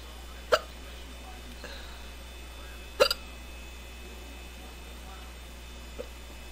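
A person hiccups three times at uneven intervals, with two sharp, close hiccups and a fainter one at the end, over a quiet background hum.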